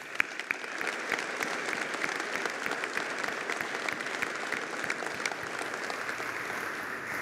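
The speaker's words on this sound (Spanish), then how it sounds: "Nuevamente les pido un aplauso para ellos." Sustained applause from an audience at an award ceremony for the Orden del Trabajo honours in Peru, an even, dense patter of clapping at moderate distance with no voices.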